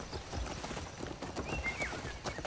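Horse hooves clip-clop in the Crimson Desert video game, a fairly steady run of soft hoof beats from an injured horse over faint background ambience, with no talking.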